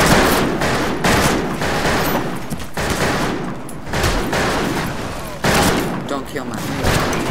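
Dense, loud gunfire in the Western multiplayer shooter Fistful of Frags, with shots and bursts packed together over constant game noise, close and continuous across the whole stretch.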